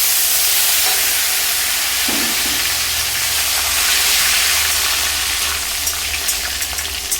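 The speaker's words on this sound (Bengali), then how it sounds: "আলুটা আগে হালকা একটু ভেজে নিব" Cut potatoes frying in hot oil with five-spice seasoning, a steady loud sizzle and hiss that continues throughout without interruption.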